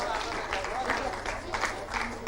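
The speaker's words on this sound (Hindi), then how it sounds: "तालियां होती रही और जोरदार तालियों के बीच" Applause rises from the audience at a welcome ceremony at Project Bhawan in Jharkhand for Salima Tete and Nikki Pradhan: continuous, fairly loud clapping with a bustling crowd texture throughout.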